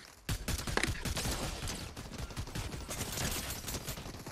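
Gunfire in Fortnite, a fairly faint rapid fusillade of overlapping shots that starts abruptly and keeps rattling steadily throughout.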